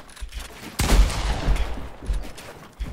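Game gunfire from a Fortnite duo battle royale match: one loud, sharp shot near the start, followed by scattered softer reports and rumbling combat noise, with no talk.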